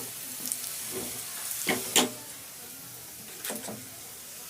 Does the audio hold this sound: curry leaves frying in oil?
yes